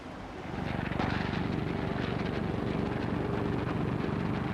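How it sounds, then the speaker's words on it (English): Engines of Boeing B-17 Flying Fortress bombers roar steadily, a dense propeller drone that swells in over the first second and then holds loud and constant without speech. "But the roar of those engines, it's still in the back of your memory."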